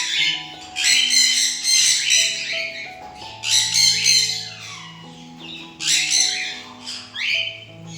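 Pet pigeons kept in an indoor bird room at home give loud, repeated bursts of squawks and chirps, close and busy, coming in waves.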